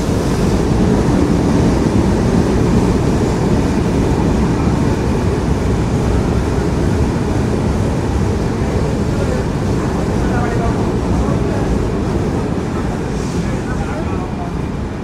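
The Jahanabad Express rolls into Bhanga railway junction in Faridpur with a loud, constant roar of rumble and wind rush close to the microphone, unbroken from start to finish.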